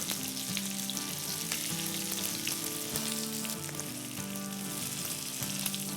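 Mutton chops fry in a pan for about two minutes a side, a dense, steady close sizzle and crackle of hot oil with faint stirring, no voices.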